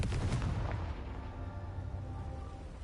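A Confringo spell explodes in the video game Hogwarts Legacy, giving a heavy booming blast with a sharp onset that rolls off into a fading low rumble.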